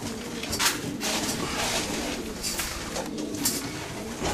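Racing pigeons arriving at a home loft, with soft repeated cooing and wing flutters over steady close ambient noise, several brief brighter bursts standing out.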